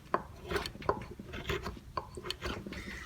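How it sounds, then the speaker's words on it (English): A chisel scrapes and flattens grooves in a wooden sperm whale carving, giving short rasping strokes in an uneven rhythm, close and moderately loud, with no talking. "you just have to go really slowly with your chisel and just kind of get into those grooves there and just flatten"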